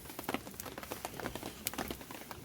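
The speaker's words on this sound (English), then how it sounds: "Just in time for the rain to start again." Soft, steady patter of rain falling on a surface in a Vancouver Island rainforest, with irregular quiet drops tapping throughout.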